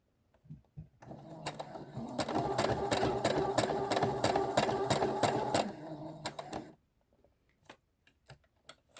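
A sewing machine stitches a tote bag in a fast steady run of rapid ticking needle strokes, stopping, then a few short bursts and clicks follow, close by and moderately quiet.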